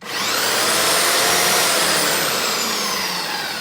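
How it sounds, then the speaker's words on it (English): A Milwaukee power sander runs continuously at close range, a loud, steady high-pitched whine with broad hiss, holding level for several seconds with no talk. "We got this sander. It's pretty nice."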